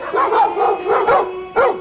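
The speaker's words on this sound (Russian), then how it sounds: "Облаяли, как настоящего грешника." Several dogs bark at a pilgrim on the Way of St. James in Galicia, Spain, a rapid run of loud close barks and yips overlapping, then a final bark after a brief pause.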